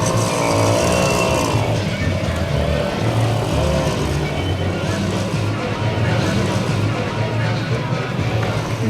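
A vintage Peugeot 204 tows a Peugeot Mobylette moped in an old-car parade at Lavaur, a loud, continuous engine rumble close by with people talking over it.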